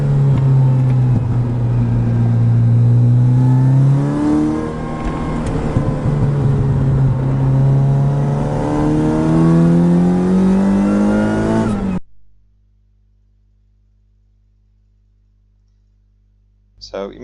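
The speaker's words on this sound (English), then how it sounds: "also listening for those heel toe blips" A track car engine revving hard with heel-toe throttle blips, loud rising and falling engine tones through the gear changes, then cutting to near silence with a brief noise at the end.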